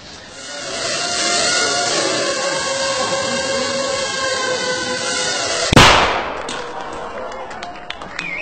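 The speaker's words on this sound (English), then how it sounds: "That little bang is enough to penetrate the skull and destroy the contents." Small shaped explosive charge of 3 grams detonating, a single sharp, loud bang that cuts through a steady background hum, followed by brief rattling debris.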